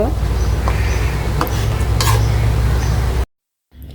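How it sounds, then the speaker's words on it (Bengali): A spoon stirs mango morabba in a cooking pot, giving soft scrapes and occasional metallic clinks up close while a person speaks, before the sound cuts off abruptly near the end. "নেড়ে দিচ্ছি এভাবে আস্তে আস্তে করতে করতে আমি মোরব্বাটা শেষ করব"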